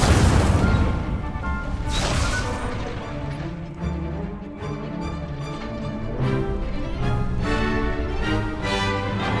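Incendio fire spell cast in the video game Hogwarts Legacy, a loud crashing burst followed by a steady roaring, crackling rush with repeated sharp whooshing hits layered over game music.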